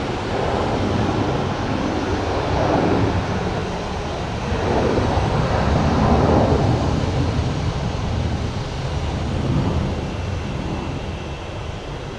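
An airplane passes at Phoenix Sky Harbor International Airport, a steady broadband jet roar that swells and eases over about twelve seconds without ever dropping away.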